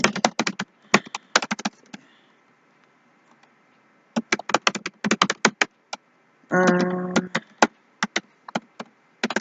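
Fingers tap out a password on a computer keyboard in quick bursts of crisp, close keystrokes, separated by short pauses, with one brief sustained tone midway through.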